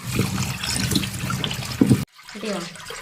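Water splashes and sloshes as cassava is rinsed by hand, with a brief pause before a quieter stretch of trickling and handling.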